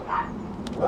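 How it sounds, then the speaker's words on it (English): Several dogs bark outdoors by a cold decking at night, giving short, mid-distance barks over a steady background murmur. "I don't know why they're all barking."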